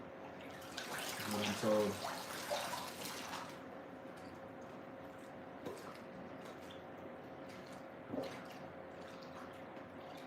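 Leather pieces being worked around in water give soft sloshing and squishy wet splashes, strongest near the start and then in scattered bursts, with someone talking briefly over them.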